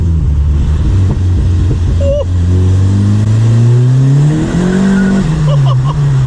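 A 1985 Ford Escort Series 1 RS Turbo engine drones loudly inside the cabin with both windows open, the revs dropping and then climbing steadily again, with wind rush and road noise behind.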